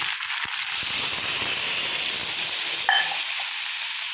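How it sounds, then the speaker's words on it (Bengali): Water poured into a sizzling pan of pumpkin, potato and chickpea curry seasoned with salt, turmeric and sugar, giving a steady loud hiss and crackle with one brief sharper burst near the end. "আর তারপরে এর মধ্যে দিয়ে দিলাম হচ্ছে জল।"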